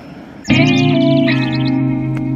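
A cartoon jet pack in Talking Tom and Friends starts up abruptly and loud, then holds a steady buzzing, effect-laden whine with shimmering overtones for about two seconds, with no talking.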